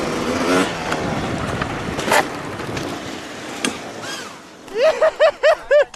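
Red Bull Hardline downhill track, a dirt motorcycle descending steep terrain: a rough engine drone and scraping tires mixed with wind, then a string of short revving bursts near the end, no clear talking.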